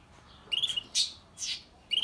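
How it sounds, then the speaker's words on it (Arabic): An abu asma bird calling in a bird reserve, giving several short, bright squawking notes in uneven bursts, close and clear with no talking. "هذا صوته ابو عسمه"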